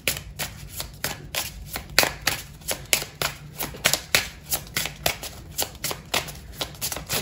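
A deck of tarot cards is shuffled by hand, a close, steady run of crisp riffling flicks and slaps repeating for several seconds with no talk.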